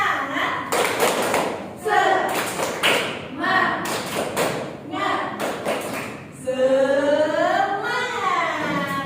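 A classroom group claps in a quick rhythmic cheer, sharp bursts of hand claps repeating in short sets, with chanting voices mixed in and a voice rising at the end.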